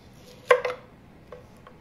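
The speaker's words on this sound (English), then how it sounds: "I'm going to take each half and cut it in half." A knife cuts a vegetable bulb in half on a cutting board, landing two quick close chopping thuds followed by a couple of fainter taps in a quiet kitchen.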